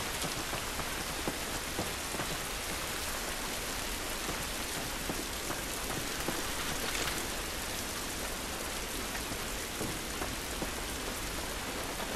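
Steady, dense rain in the video game The Last of Us Remastered, pouring down with a constant hiss of drops hitting surfaces and no pauses throughout.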